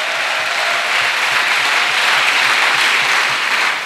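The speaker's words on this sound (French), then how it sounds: "Clap for Jesus Christ." A church congregation applauds in praise of Jesus Christ, a dense, steady wash of many hands clapping loudly and evenly throughout, with no voices standing out.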